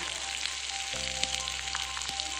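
Dry spices, onion and ginger frying in a tablespoon of oil for kadai paneer, a steady close sizzle with a few crackles and a brief clink of a utensil, no talking.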